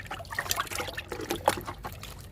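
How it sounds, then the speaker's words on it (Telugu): Liquid kitchen-waste fertilizer is poured onto drumstick plants, giving a close, uneven trickle and splash of liquid that runs for a couple of seconds with no talking. "కిచెన్ వేస్ట్లో పోస్తున్నాను లిక్విడ్ని."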